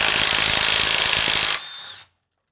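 A power tool spins a 19 mm lug nut socket in reverse on an anvil's hog ring, giving a loud, steady whirring rattle for about a second and a half before winding down and stopping.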